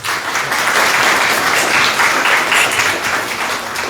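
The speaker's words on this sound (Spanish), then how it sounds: "Aplausos" Audience applause at the close of a social work lecture session, a steady dense wash of clapping that holds loud and even for about four seconds with no one speaking over it.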